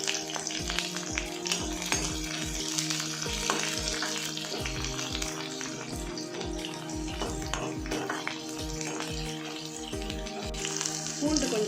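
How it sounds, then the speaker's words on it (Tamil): Green chilies and garlic sauté in hot oil in a pan for a Tamil fish-and-rice-water curry, a steady close sizzle and crackle with rhythmic stirring scrapes throughout, no talk. "பச்சை மிளகாய், அதுக்கப்புறம் பூண்டு நல்லா கொஞ்சம் வதங்கணும்."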